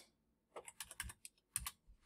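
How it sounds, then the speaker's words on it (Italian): Keys tapped on a computer keyboard while working in AutoCAD, a quiet run of quick, uneven clicks in two short clusters after a brief silence, with no voices. "Quindi digitiamo Q più invio o clicchiamo direttamente sulla parola quote."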